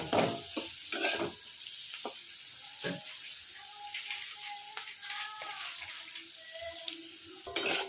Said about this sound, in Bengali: একটুখানি হালকা ভাজবো ফ্লেমটা আমি এবার কিন্তু কমিয়ে দেব